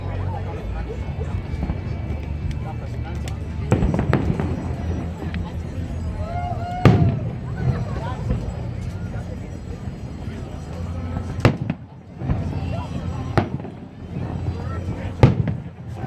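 Fourth of July fireworks bursting over Tempe Town Lake in Tempe, Arizona, with several sharp booms and crackles spread across a steady crowd hubbub, people chattering nearby throughout.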